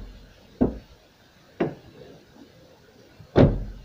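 A car door with a repaired handle closing and opening under an automatic cycle, giving three distinct solid thuds spaced a second or two apart, close and alone.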